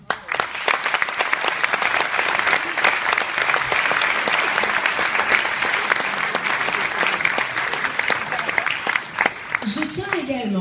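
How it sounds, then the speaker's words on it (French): A crowd at a ceremony honouring Luciano Pavarotti applauds his widow Nicoletta Mantovani with loud, sustained clapping and distinct sharp claps throughout, as a voice briefly comes in near the end. "Merci d'applaudir son épouse,"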